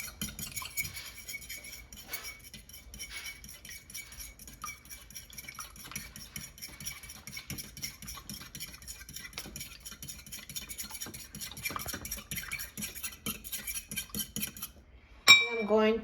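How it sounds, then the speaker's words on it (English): A milk and egg mixture for Nutella French toast is whisked in a bowl. Quiet, steady clinking and scraping of the utensil against the dish runs throughout, close by and alone, ending with a brief louder clatter. "And now whisk it together."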